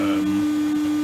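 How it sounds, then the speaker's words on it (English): A steady electric motor hum with a constant droning tone and mechanical noise, continuous and fairly close. "All you can hear at the moment is motor noise."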